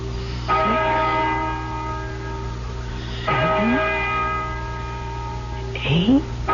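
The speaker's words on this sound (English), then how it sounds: "Listen to that bell." A church bell tolls three times at slow, even intervals, each stroke ringing out and lingering over a low steady hum.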